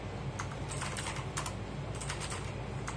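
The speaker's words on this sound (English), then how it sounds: "And I think this is actually pretty cool mechanical keyboard." Typing on a GAMDIAS Hermes E1 mechanical keyboard gives steady, close clicky keystrokes in a quick irregular rhythm, alone over a low hum.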